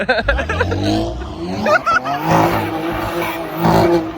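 A Toyota Supra spins its tires in place during a street takeover, giving a loud, close squeal and skid over revving engine noise, with brief voices mixed in.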